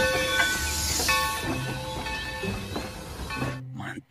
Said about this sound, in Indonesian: yang ini kereta api